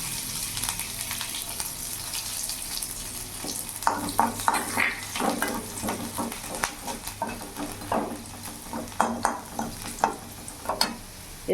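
Chopped garlic hits hot oil already holding fried spices and a dried red chilli, giving a steady close sizzle broken by scraping stirs in the pan.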